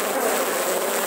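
Weak honeybee swarm buzzing at an apiary, a dense, continuous drone of many wings heard close up and fairly loud, with no pauses.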